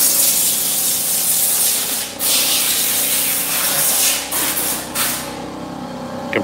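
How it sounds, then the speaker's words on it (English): Air compressor running loudly while an air hose blows out a Jeep during detailing; a steady broadband hiss fills the whole stretch, with a few sharp bursts of air standing out near the middle and end. "Compressor's kind of loud over here, but getting all nice and detailed for the weekend."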